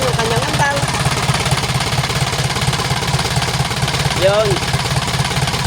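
A small engine that had been flooded, started and now running steadily with an even low throb, someone talking over it throughout.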